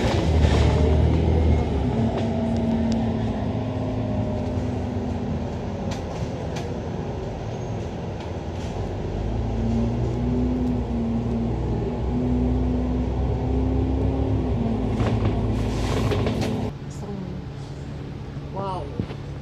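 Bus ride toward Stanley, Hong Kong: steady low engine rumble and road noise with whining drivetrain tones and occasional rattles, heard from inside the vehicle throughout.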